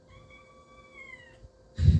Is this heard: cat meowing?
yes